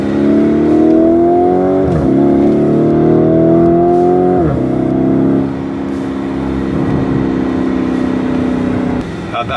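A car's engine revs loudly and climbs in pitch through several gear shifts as it accelerates on the road, then settles into a steadier, quieter drone near the end.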